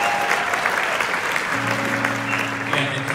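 A crowd at the Country Radio Seminar claps steadily throughout, a dense wash of applause with some cheering mixed in, fairly close and sustained.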